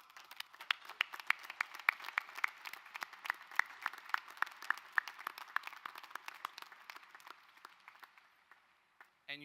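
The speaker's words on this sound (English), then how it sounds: "Let's give them a round of applause." Audience applause at a university commencement ceremony for the College of the Arts, a steady wash of many hands clapping that thins and fades out near the end.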